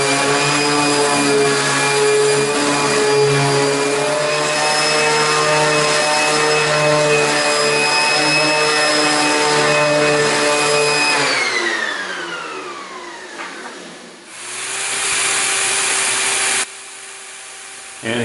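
A router with a round-over bit cutting along the edges of wooden work tables: a loud, steady high motor whine that drops in pitch partway through, then carries on after a short lull.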